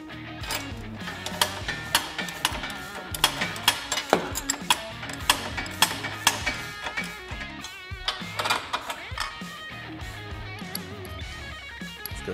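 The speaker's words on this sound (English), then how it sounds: "Now we're going to go ahead and remove our rear A-arm bolts." Rear A-arm bolts being removed from a Honda Talon side-by-side with a ratchet, a steady run of close, quick clicking pawl ticks and small metallic clanks throughout.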